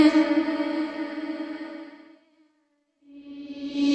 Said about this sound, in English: So you get that reverse reverb, right?